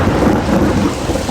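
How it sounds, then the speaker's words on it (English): Loud rain and rumbling thunder roar through a forest during a tornado, heard from shelter under oak trees on a hike, a dense continuous wash with deep low rumble close by. "Got a little rained on, not too bad though."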